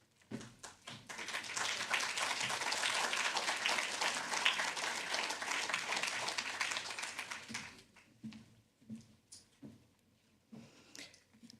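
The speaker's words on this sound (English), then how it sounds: "another round of applause for Mr. Javed Samuel." An audience applauds after a lecture, a full burst of clapping that rises quickly, holds steady for several seconds, then thins to scattered, fading claps.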